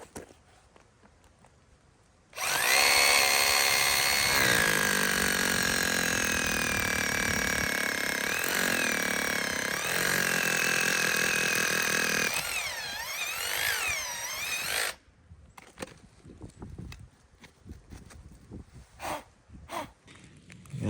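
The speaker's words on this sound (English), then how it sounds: "So I'm going to drill a hole down through here, put the bolt in" A power drill bores a hole through a solar ground mount post, running loud and steady for about twelve seconds, its pitch shifting as it bites, then easing off and stopping before quieter handling noises follow.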